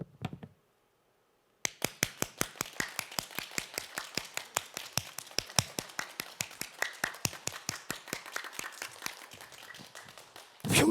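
A church conference congregation claps hands together in a steady, rapid rhythm, with dozens of sharp, evenly spaced claps in unison after a short pause at the start.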